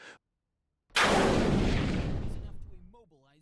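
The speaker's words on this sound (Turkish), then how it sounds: "Ukrayna tankı doğru anı bekleyip atış yapıyor." A Ukrainian tank fires its main gun in combat, one sudden, massive boom after a brief silence that rolls off into a long, fading rumble, followed by a voice talking.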